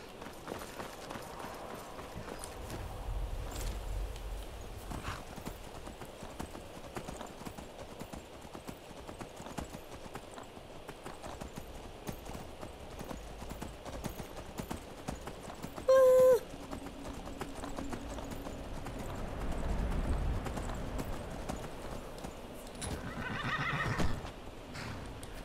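Hooves clip-clop steadily as a horse runs in a video game, with a sharp whinny partway through and a low rumbling swell near the end, all at a moderate, even level.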